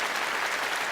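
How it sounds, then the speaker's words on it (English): Applause from a small group fills the short moment, steady and dense clapping with no talk over it, dropped in as an effect during a casual podcast conversation. "Applaud to that."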